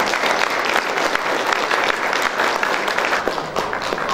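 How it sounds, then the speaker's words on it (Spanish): At a graduation ceremony for a master's program in construction management, the audience bursts into strong, continuous applause, a loud, dense patter of many hands sustained evenly from start to finish. "fuertes palmas para cada uno de ellos"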